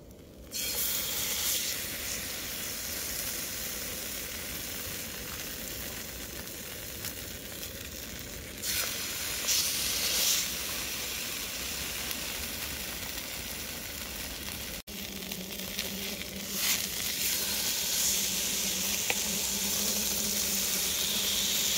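Salmon fries in a pan at a woodland wild camp, giving a continuous close, steady sizzle and hiss that swells slightly at moments and never lets up.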